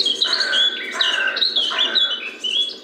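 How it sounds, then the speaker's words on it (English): Recorded dawn chorus birdsong from a CD on a CD player, a dense overlapping mix of many species' chirps, squawks and whistles played continuously and fairly loud, with no talk. "It's a CD player with a CD of the dawn chorus, which we play to the birds"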